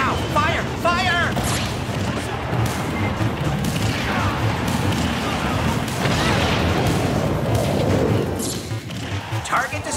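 Weapons fire at an incoming missile in the Super Smash Bros. for Wii U Orbital Gate Assault stage, a dense, continuous wash of loud blasts and booms layered with game music and voices.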